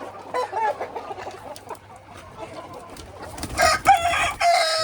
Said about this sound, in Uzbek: Buni qarang tovuqlar.